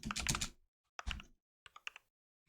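Short bursts of computer keyboard typing during Forth programming: a quick run of dense keystrokes, a second cluster, then a few separate taps, close and clear with no voices.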